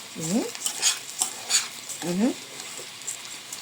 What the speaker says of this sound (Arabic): وايدي اهي في الرز اهو بشوحه